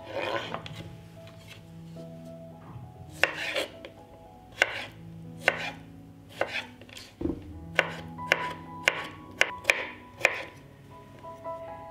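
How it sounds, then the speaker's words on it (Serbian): Rhythmic knife chopping of pickles on a cutting board, a run of crisp close taps speeding up into steady strokes, with no voices. "Zatim ću iseckati 4 kisela krastavčića."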